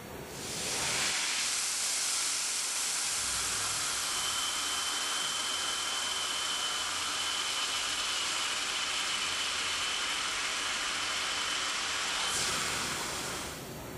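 A CNC machine runs a G81 drilling cycle, giving a steady, loud broadband hiss and whir that holds evenly for about eleven seconds before cutting off, with no talking.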